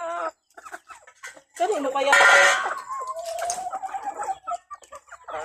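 Backyard chickens and a rooster cluck in short, scattered bursts with one louder squawking call in the middle, close by, while a person talks to them in between.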